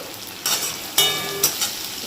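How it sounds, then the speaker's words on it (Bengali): Chopped onion, tomato, salt and turmeric fry slowly in a pan as a masala, with a soft background sizzle broken by three loud bursts of stirring. "এটাকে আস্তে আস্তে কষিয়ে নেব।"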